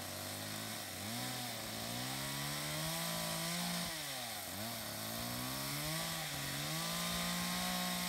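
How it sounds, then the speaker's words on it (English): A chainsaw cutting trees while clearing land in the Philippines drones continuously, its engine pitch dipping and rising as it bites into the wood, loud and close with no talk. "They love that chainsaw."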